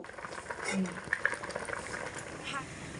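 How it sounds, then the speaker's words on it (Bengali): Dal simmering in a covered pot over medium heat gives a steady bubbling and gurgling, close and moderately loud, with soft pops throughout and no talk. "এবার এর মধ্যে একটা ঢাকা চাপা দিয়ে মিডিয়াম আঁচে রেখে পাঁচ থেকে ছ মিনিটের জন্য ফুটিয়ে নেব"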